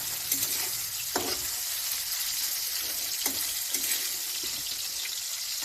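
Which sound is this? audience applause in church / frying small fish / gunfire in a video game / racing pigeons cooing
frying small fish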